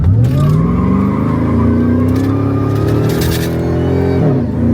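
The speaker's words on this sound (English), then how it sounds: "if I was to floor it right now, it's just gonna sit there and spin." A Ford Lightning SVT pickup is floored from a standstill with its wheels spinning, the engine roaring loud and close as its pitch climbs steadily, the tires hissing and squealing throughout before it eases off near the end.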